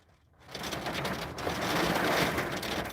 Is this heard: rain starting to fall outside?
yes